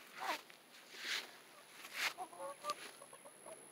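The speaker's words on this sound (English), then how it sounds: "The Muff Henny hen" Muff Henny brood hen clucking close by in a quiet yard, a few short, separate clucks and soft chuckling calls spread over a few seconds.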